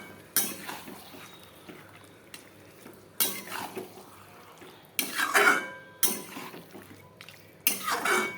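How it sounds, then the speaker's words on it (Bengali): Mutton being stir-fried in oil in a pan, heard as repeated loud scraping and clanking of a utensil against the pan in irregular bursts over a low background hiss, with no talking. "এখন হচ্ছে এটাকে ভালো করে কষাবো"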